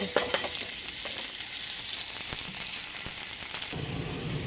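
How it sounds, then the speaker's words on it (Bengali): Sliced medium onion frying in hot oil in a pan until reddish-brown, a steady close sizzle with occasional stirring scrapes, heard alone without speech. "পেঁয়াজটা আমার লাল লাল করে ভাজা হয়ে গেছে"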